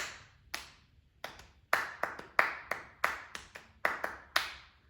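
A syncopated hand-clapped rhythm, repeated back as a music audition exercise, crisp nearby claps falling in irregular clusters separated by brief gaps, with no voices over them.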